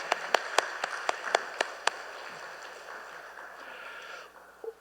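Church congregation applauding during a Sunday service: a quick run of crisp, evenly spaced claps that thins out after about two seconds into quiet room hum.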